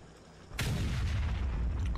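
Artillery fire in the Factorio video game: a single sharp boom goes off about a quarter of the way in, then a dense rumbling barrage carries on, loud and close, with no talking over it.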